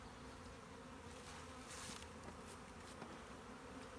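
A dense, continuous buzzing of many bees swarming nearby, steady and fairly quiet, with no voices.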